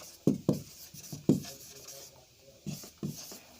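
Several sharp chalk taps and short strokes on a blackboard, written in quick bursts with pauses between them during an electrical engineering lecture, close and fairly quiet with no voices.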